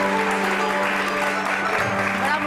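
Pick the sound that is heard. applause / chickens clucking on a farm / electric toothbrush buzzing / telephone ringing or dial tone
applause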